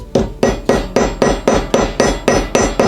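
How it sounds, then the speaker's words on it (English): A ball peen hammer lightly taps the end of a rivet on a leather sheath for a Hudson Bay axe, about ten crisp, evenly spaced metallic strikes, close and loud with no talk. "Light taps on the end, and you go around the outside of the rivet."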